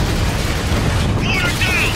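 An RPG rocket blows up a mortar in Spec Ops: The Line, a deep rumbling blast under constant battle noise, loud and close, with voices shouting over it.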